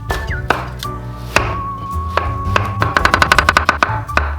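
A kitchen knife chops potatoes for sujebi on a cutting board, scattered sharp knocks at first, then a quick run of rhythmic close chops, loud and with no talking.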